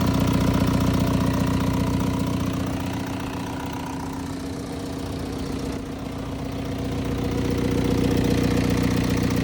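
A Z car with a swapped TDI diesel engine idles close by, a steady, loud, clattering rumble that dips slightly mid-clip and swells again, with no voices.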